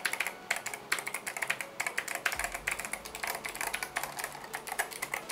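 Keys clatter in rapid, uneven bursts of close, crisp clicks as someone types on a water-soaked CJ ENM OGN-K550GC gaming keyboard with optical switches, with no talking.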